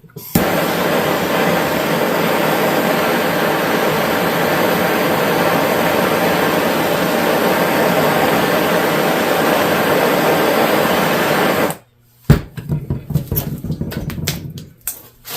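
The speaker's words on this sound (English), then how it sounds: "So I'm going to show you welding this." Thin aluminum oil tube guard for a Honda XR650L being welded in a chilly garage, a long steady hissing, buzzing roar that cuts out near the end, followed by brief clattering.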